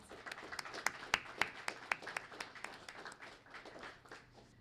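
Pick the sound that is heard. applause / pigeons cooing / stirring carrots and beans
applause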